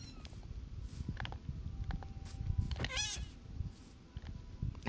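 A cat meows in Minecraft, one short wavering meow in the middle over busy game noise and clatter.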